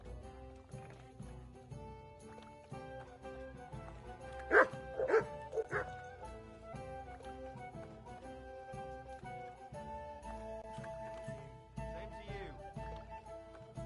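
A dog barks in the medieval video game Kingdom Come: Deliverance II, a few short sharp barks in a quick cluster midway, set against steady background music and hoof-like clopping.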